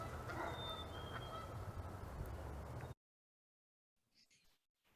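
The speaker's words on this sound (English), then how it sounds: "there were geese honking in the background" Geese honk in the background at an outdoor rally, faint calls scattered over a steady crowd and wind wash that then cuts to near silence with a few soft sounds.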